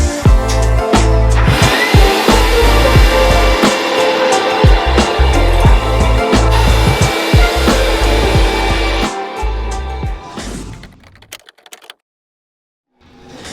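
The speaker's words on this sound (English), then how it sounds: "I went ahead and vacuumed all of the surfaces to remove any little bits of dust that were left." A vacuum cleaner cleaning sanding dust off closet surfaces during a DIY makeover, a loud continuous motor whine with bumping and rattling as the nozzle moves, cutting off near the end.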